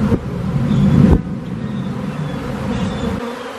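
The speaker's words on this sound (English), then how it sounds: "We got bees all around, flying all over in the air." Swarm of honeybees buzzing around a queen, a dense close-up drone of many wings, loud and steady with a brief surge near the start.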